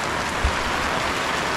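Steady rain falls in Wayanad, Kerala, a dense even hiss of drops close by with no voices, holding at a constant level throughout.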